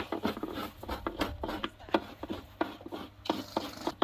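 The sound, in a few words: coconut being scraped by hand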